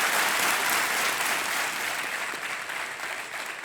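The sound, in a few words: studio audience applause on game show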